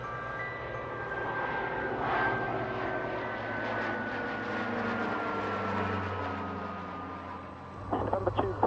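An Airbus A350 XWB in flight gives a steady, loud engine and airflow drone with faint whining tones throughout, ending in a few sharp knocks near the close.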